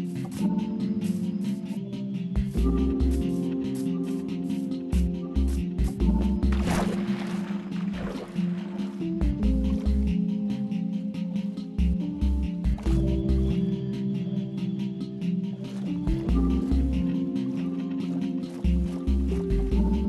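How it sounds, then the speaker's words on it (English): Water in the Minecraft video game sloshes and drips through a steady, busy game soundtrack, with squishy liquid movement coming and going over about twenty seconds. "water."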